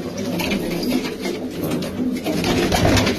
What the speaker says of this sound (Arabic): شباب هذول حمامات باذن الله مزاجن